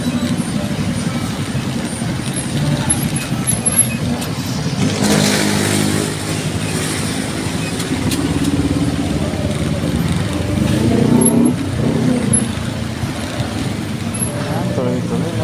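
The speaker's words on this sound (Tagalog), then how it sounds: "traffic" Road traffic on a highway from Antipolo to Marcos Highway, heard from a moving motorcycle: a continuous engine and road rumble with a vehicle revving past midway, overlaid by steady wind noise.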